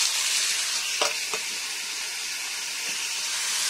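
Tomatoes and peas sizzle in a hot pan while vegetable masala Maggi cooks, a steady broadband frying hiss with a few brief crackles and stirring clicks, close and continuous with no talking.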